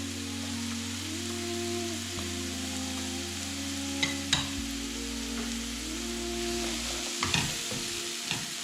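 Red and green peppers sizzle steadily in a frying pan as they are stirred, with a few soft scrapes and clicks of the utensil over the continuous frying hiss.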